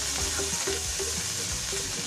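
Garlic sautés in a hot pan, a steady close sizzle with light scraping and stirring clicks running throughout.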